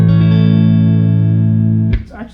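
An electric guitar rings out through a Fender Twin Reverb amplifier, a loud sustained clean chord holding steady for about two seconds before a pick scrape and new strum cut in.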